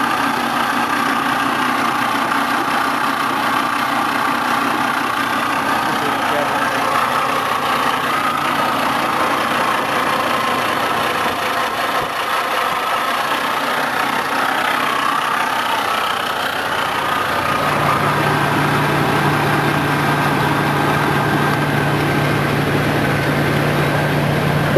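A Willys engine cranks steadily on its 6-volt starter, a continuous loud mechanical drone that drops into a lower, steadier hum near the end.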